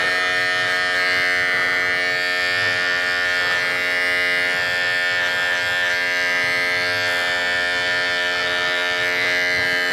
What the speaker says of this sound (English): now I'm gonna open up to my number 1 on the same clipper. And I'm gonna start blending from here